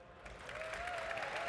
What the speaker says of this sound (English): You're even getting applause from Harrison.